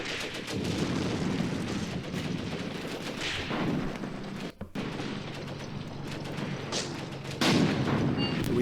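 Gunfire in the war game Graviteam Tactics: Mius Front, dense overlapping machine-gun bursts and rattling shots at moderate loudness, nearly continuous with one brief gap, with faint background battle noise.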